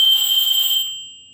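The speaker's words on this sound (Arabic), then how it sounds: "هروح عامل جهاز انذار" A homemade door-mat burglar alarm sounds a loud, steady high-pitched electronic tone with no other sound for about a second, then cuts off and leaves near silence.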